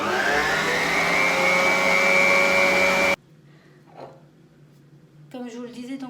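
An electric mixer kneading brioche dough whirs loudly and steadily with a rising motor pitch, then cuts off abruptly, leaving quiet handling noises before a voice begins talking.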